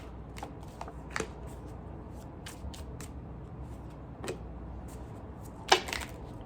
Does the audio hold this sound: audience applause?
no